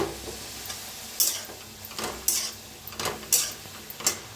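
Radish pods (dingri) roast in a pan after oil is poured in, a low, soft sizzle broken by several sharp scrapes and clinks of a utensil against the pan at irregular intervals.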